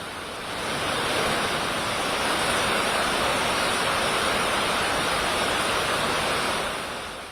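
Rough sea surging onto the Kerala coast at Edavanakkad during heavy monsoon rain, a loud continuous roar of crashing surf and wind that swells in and holds steady, with no speech.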